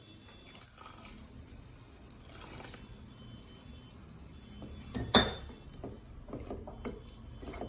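Water is poured into a pan of minced chicken keema, with splashing and dripping, a sharp clink of utensil on metal midway, and quieter kitchen handling sounds around it.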